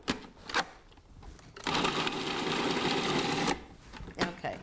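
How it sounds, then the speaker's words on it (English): A food processor grinds garlic with a steady, loud whirring burst lasting about two seconds, framed by brief clatters and handling noises before and after. "You don't have to chop it so fine because the food processor is going to do all the work."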